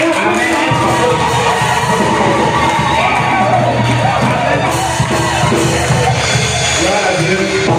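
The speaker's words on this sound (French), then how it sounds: "il faut crier et on acclame le Seigneur" A church congregation shouts and cheers in praise, a loud, dense wall of crowd voices with whoops and cries that carries on without pause for several seconds.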